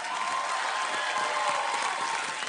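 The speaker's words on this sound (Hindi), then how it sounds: "एक बार जोरदार ताली उनके सपोर्ट के लिए" A dance show audience gives a short burst of steady, even applause, a thick wash of many hands clapping with no speech on top.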